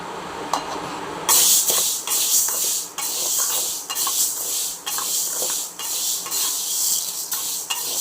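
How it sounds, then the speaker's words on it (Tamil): Green gram is dry-roasted in a kadai, the dry lentils rattling and scraping as they are stirred against the metal pan, with a steady sizzling hiss and repeated irregular stirring strokes close up. "இப்போ கடாயில் நம்ம இப்போ இந்த பச்சை பயிரை போட்டு"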